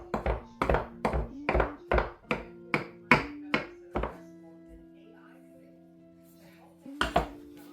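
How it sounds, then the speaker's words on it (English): A knife chops garlic cloves finely on a cutting board, about ten sharp, evenly spaced knocks in a quick rhythm, then a quiet ringing pause before two more chops, all close and clear. "Now, you need about 3 nice sized garlic cloves. One of mine is small, so I got 4. And we're gonna mince this up real fine as well."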